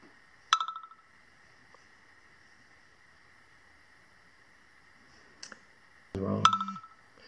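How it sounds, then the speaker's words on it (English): An iPhone plays the Cat Tailer app's pet-nearby notification, a short bright chime followed later by a brief tone and a second chime over a soft low rumble, heard close with no talk. "there's an example of when a notification comes through that your pet is nearby"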